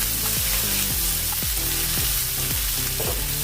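Chopped onion and green chilli dropped into hot oil with mustard seeds and cumin in a pan, a loud, dense, continuous sizzle heard close up, with stirring strokes and no voices.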